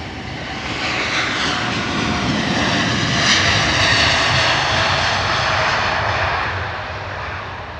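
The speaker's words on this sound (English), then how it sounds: "Beautiful American Dreamliner heading out." An American Airlines Boeing 787 Dreamliner departs Heathrow, its jet engines roaring loud and close as a broad, steady rumble that swells and holds for several seconds, then eases slightly toward the end.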